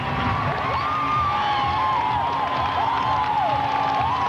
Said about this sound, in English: Plenty of applause from the Utah crowd